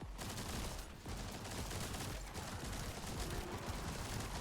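Continuous rapid video-game gunfire from Gley's infinite-ammo ability, a dense steady stream of shots with no pauses throughout.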